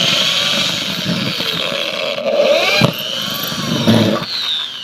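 A power tool drives a tek screw with a rubber gasket washer down into roof sheeting. There is a close, whirring motor whine that rises and falls, with a sharp clack near the middle and no talk.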